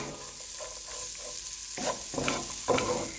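Mixed vegetables with peas stir-fried in a pan over medium heat for a pasta dish, giving a steady sizzle broken by several louder scraping stirs toward the end, close up with no talking.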